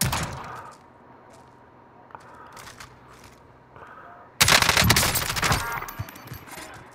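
Gunfire in a Call of Duty Modern Warfare battle royale match: scattered distant shots and muffled bursts at first, then a sudden loud, dense stretch of rapid automatic fire up close that continues to the end, with no talking.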